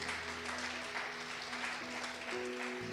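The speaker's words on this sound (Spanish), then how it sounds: "Dele un aplauso" A church congregation claps, a faint, even wash of applause with steady organ or keyboard tones sustained underneath.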